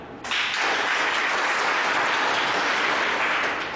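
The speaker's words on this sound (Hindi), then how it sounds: "एक बार तो मेल विंग के तरफ से पहले ताली" Men's side of a training-session audience bursts into applause after a short pause, a dense steady wash of many hands clapping together, loud and sustained throughout.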